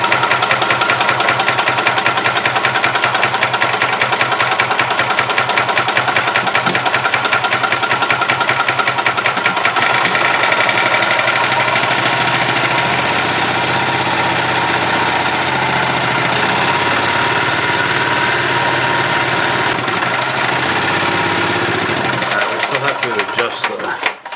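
Gas engine of a 1991 Yamaha G8 golf cart with a freshly cleaned carburetor and new fuel pump, running loud and close with a fast, steady putter throughout and a slight change in pitch near the end.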